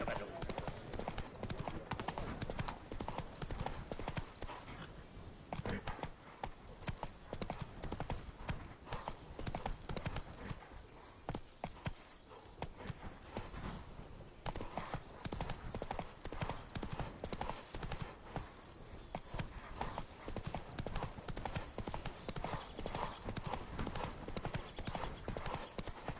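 Rapid, continuous hoofbeats of galloping horses in The Witcher 3: Wild Hunt, loud and relentless throughout, with an occasional whinny mixed in.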